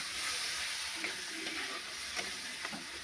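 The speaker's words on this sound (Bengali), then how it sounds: "আলু দিয়ে ভালো করে কষবো" Potatoes and spices for a Bengali fish curry sizzling and frying in a pan, with a steady hiss of hot oil and a few brief scrapes as they are stirred, close and alone.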